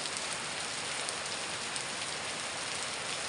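Steady rain falls on surfaces outdoors, a soft, even hiss of countless drops that continues unbroken throughout, fairly faint and with no voices.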